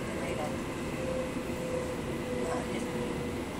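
CityRail passenger train near Macquarie Fields, a steady rumbling roar of the train running along the tracks, close and continuous, with a faint tonal whine and people talking underneath.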